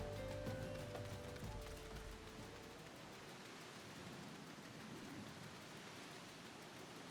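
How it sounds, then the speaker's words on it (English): Steady rain hisses down over Final Fantasy XIV game scenery, a dense, even wash of noise with a low rumbling swell at the start that fades. No voices are heard. "Rain's coming down pretty good. Pretty decent weather in the game too."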